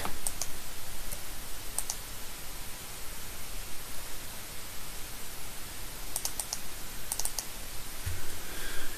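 Computer mouse clicks, short sharp taps that come in quick pairs and small clusters, spaced apart over a steady faint hiss, with no speech.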